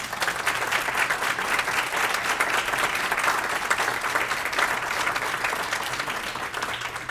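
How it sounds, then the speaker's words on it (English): Sustained audience applause at a Hall of Fame induction evening, a full, even roar of many clapping hands holding steady throughout with no voices on top. "we would like to salute you with our applause"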